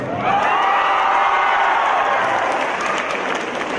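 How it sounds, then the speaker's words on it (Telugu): An audience breaks into loud, sustained applause at a public talk, dense clapping swelling quickly and holding steady for several seconds with faint cheering mixed in. "దేవిశ్రీ ప్రసాద్ పేరు చెప్పగానే అందరూ చప్పట్లు కొట్టారు"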